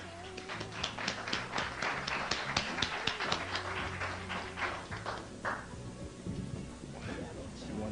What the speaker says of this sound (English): Let's bring her on with a round of applause.